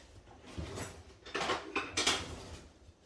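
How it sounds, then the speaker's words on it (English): A spoon stirs vegan cabbage soup ingredients in a pot, giving a few soft, close scrapes and clinks spaced about half a second apart, quiet overall with no talking. "I'm just going to give it a stir"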